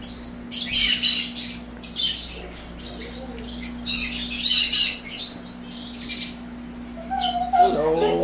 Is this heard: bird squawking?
yes